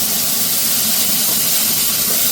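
Cut potatoes frying in hot oil, a loud, dense, continuous hissing sizzle held steady throughout, close up and with no talk.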